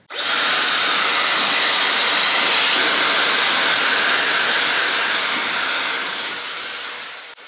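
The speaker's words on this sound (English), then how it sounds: "I've got it on highest heat setting, highest fan setting, and we're just going to turn it on and blow dry this side of the hair" A Dyson Airwrap or Shark FlexStyle hair styler blows on its highest heat and fan settings, a loud, steady, close rushing whir that holds for several seconds and then tapers slightly before cutting off.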